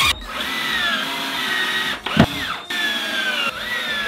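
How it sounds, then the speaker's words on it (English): Power drill boring into a wall to mount a climbing hangboard, a steady high whine running in bursts with two brief pauses and a louder grinding bite near the middle, close and loud. "It should be simple enough to just drill into the wall."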